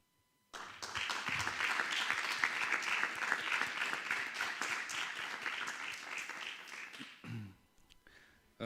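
An audience at a conference session on eliminating HPV-related cancers in Southeast Europe gives warm, sustained applause that starts abruptly, holds steady for several seconds, then fades out, followed by a brief voice.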